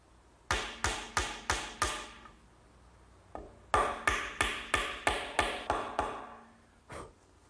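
A hardwood dowel driven into a glued furniture joint, two close bursts of rapid, evenly spaced hammer blows, five then eight, followed by one last lighter tap, with no talk.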